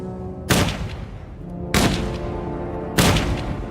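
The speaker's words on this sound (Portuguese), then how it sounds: "Então atiraram nele 3 vezes no peito e 1 vez na cabeça." Three loud, sharp gunshots fired at a man, evenly spaced about a second apart, each a sudden blast with a short decaying tail, close and alone with no voices.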